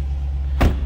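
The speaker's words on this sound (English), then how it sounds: "Nice little deep rumble coming out of that exhaust." A 2011 Dodge Challenger SRT8 idling, its exhaust giving a steady deep low rumble close by, with a brief louder pulse near the end of the short stretch.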